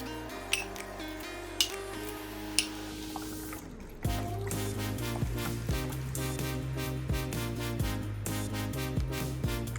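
White bean and sausage soup ingredients, including Great Northern beans, being tipped into a crock pot: a few clinking taps, then a louder slide and steady pouring rattle against the pot, close and alone.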